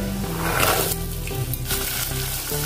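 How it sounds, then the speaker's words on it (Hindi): Peas tipped into a pan of sizzling garlic, a loud close continuous frying hiss with stirring scrapes throughout and no talking. "लहसुन अच्छे से हो गया है। अब इसमें हम मटर डालेंगे।"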